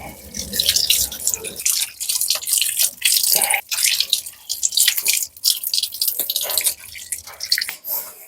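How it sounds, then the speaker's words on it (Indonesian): Running tap water rinses a bicycle chain, a steady splashing and dripping stream close by with irregular bursts as the water hits the metal links. "Sekarang kita butuh bantuan air mengalir ya teman-teman, bisa pakai keran."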